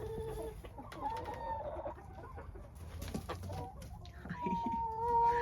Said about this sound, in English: over here is 2 chickens now in this pen